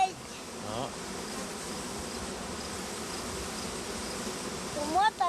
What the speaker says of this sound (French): Regarde les abeilles ici, là.